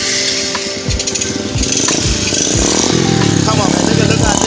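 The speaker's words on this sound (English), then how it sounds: "now I put up this exhaust and like this for testing" A motorcycle engine fitted with a homemade exhaust built from a fire extinguisher runs and revs close by, a throaty, uneven rumble that swells and holds, with a voice heard over it.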